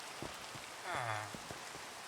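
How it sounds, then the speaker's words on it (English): Steady rain falling in a castle-building video game, a soft even hiss of drops throughout with a few scattered knocks and a brief tonal chime in the middle. "Okay, now it's raining."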